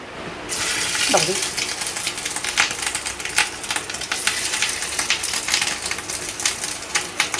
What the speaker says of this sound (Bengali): এখানে এখন ডিমের বড়াটা ভাজবো